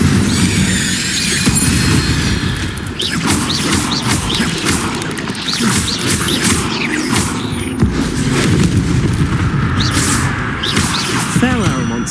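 Incendio fire spell cast repeatedly in Hogwarts Legacy during a fight with a giant spider boss: a continuous loud rush of crackling, whooshing flame mixed with shrill squeals and heavy booms over steady game noise.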